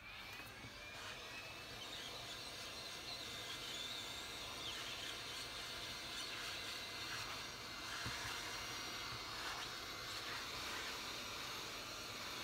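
A hot-air tool heats the edges of an Asus ZenPad 3S Z5 tablet screen to loosen the adhesive, giving a steady, even blowing roar that continues throughout without pause.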